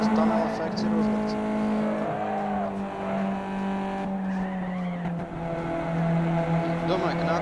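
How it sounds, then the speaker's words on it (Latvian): Car engine in the Gran Turismo 2 racing game droning steadily through a tunnel, a sustained tonal whine with shifting pitch and a muffled, reverberant tunnel effect, with talk over it. "Kaut kāds tunnel efekts ir uzlikts."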